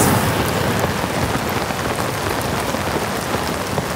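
Steady heavy rain falls in the video game Zelda: Tears of the Kingdom, a dense continuous patter close up that lasts the whole time, with no speech.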